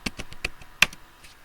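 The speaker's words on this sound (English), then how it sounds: "I'm typing py manage.py run server." A short command is typed into a terminal on a computer keyboard: a handful of soft, quick keystrokes with one sharper tap, close and quiet.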